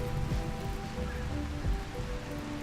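Steady rain pattering across the ground in RimWorld, a continuous soft broadband wash with scattered drop ticks, moderately loud and uninterrupted throughout.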